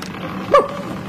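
A person imitates a dog with one short, loud bark that stands out sharply against a quiet indoor background.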